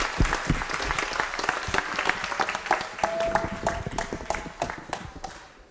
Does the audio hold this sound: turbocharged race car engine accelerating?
no